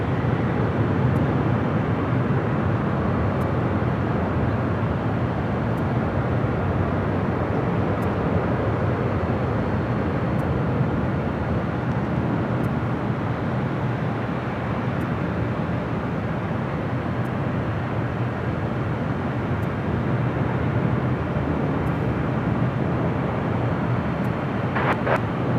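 Jet airliners taking off back to back at LAX, a steady, broad roar of engine noise that holds constant and fairly loud for the whole stretch, with no talking.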